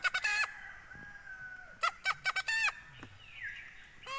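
Several roosters crow one after another, harsh rising calls in quick bursts with short gaps, fairly close, and a longer drawn-out crow near the end.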